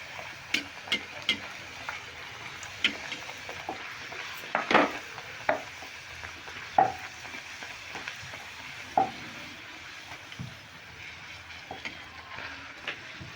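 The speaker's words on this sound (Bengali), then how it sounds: "এবার আমি ছেড়ে দিচ্ছি ভাজার জন্যে ডালপুরিগুলো" Chana dal puris deep frying in hot oil give a steady soft sizzle, punctuated by a few sharp clinks and scrapes of a utensil against the pan, close and quiet, with no talking.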